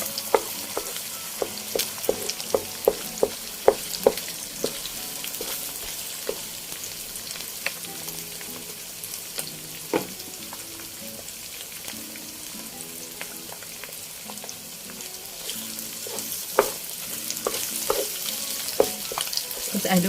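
An egg frying in a pan for Malaysian kampung fried rice gives a steady close sizzle and crackle, with scattered sharp pops and the occasional scrape of a utensil, and no voice over it.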